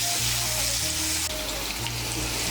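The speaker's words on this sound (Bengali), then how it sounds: "এই দেখুন আলুগুলোকে হালকা করে ভেজে নিয়েছি।" Potato pieces coated in salt and turmeric fry lightly in a pan, giving a steady, close, low sizzle with a watery hiss that stays even throughout.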